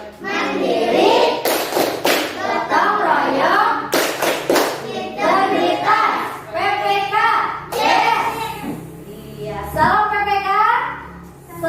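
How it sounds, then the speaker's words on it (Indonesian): Children in a classroom clap their hands together in a rhythmic PPK clapping chant, sharp repeated claps close by, mixed with their sung and spoken voices throughout. "Coba sekarang kita tepuk PPK dulu."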